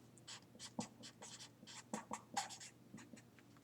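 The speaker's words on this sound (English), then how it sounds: "So the area of the sail, I'm going to write it down," Pen or pencil scratching on paper while a measurement is written down, a steady run of short scribbling strokes close by and fairly quiet, with no talking.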